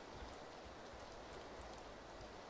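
Rain falls in the video game PUBG as a steady, even hiss of drops, faint and continuous with no talk over it.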